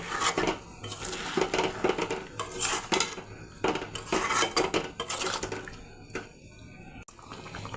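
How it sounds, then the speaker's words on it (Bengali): Water poured into a pan of chicken being cooked down into a thick dry curry, with repeated metal clanks of a spoon against the pan and a splashing pour, close, steady and fairly loud, no voices. "এখন সামান্য একটু জল দিয়ে দেব"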